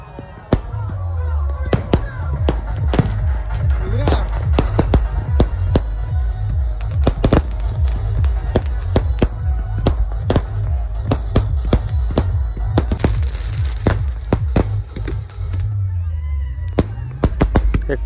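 Firecrackers and fireworks crack in rapid, irregular bursts at Baga Beach, Goa, loud and close over a constant crowd hubbub with people talking throughout.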